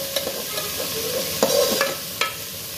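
Fenugreek leaves lightly frying in a pan, a continuous soft sizzle under a handful of spoon scrapes and taps against the metal, with one fuller stirring scrape near the middle.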